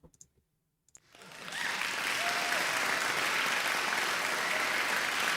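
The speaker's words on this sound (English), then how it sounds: "I'll just do the applause." A few faint clicks, then a brief pause, then a canned applause sound effect played during a late-night stream fades in and holds as a loud, steady wash of crowd clapping.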